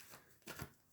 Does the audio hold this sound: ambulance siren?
no